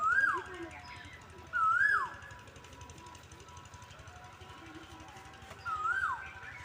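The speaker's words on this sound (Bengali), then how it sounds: "কত সুন্দর একটা কোকিল পাখি ডাকছে শুনতে পাচ্ছ বসন্তকালে কোকিলের ডাক" A koel calling in spring near a rural home, three clear rising whistled calls at intervals, moderately distant over a low steady background hum.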